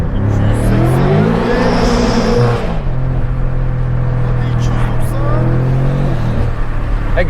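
An 800-horsepower BMW M5 CS with a G Power turbo V8 accelerates hard at very high speed on the autobahn, a loud, rising engine and exhaust roar heard from inside the car, with a brief dip as it shifts.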